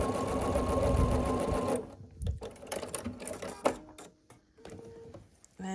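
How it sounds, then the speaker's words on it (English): A sewing machine stitches a quilt block along the diagonal in a dense, loud mechanical run, then stops, followed by scattered handling clicks and rustles of fabric. "we're going to sew from this point on the diagonal."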